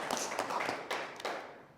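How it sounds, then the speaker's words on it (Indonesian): A brief burst of clapping for a classmate in a university classroom: a few quick, sharp hand claps from a small group, close and fairly loud, fading out after under two seconds. "Tepuk tangan untuk teman dulu."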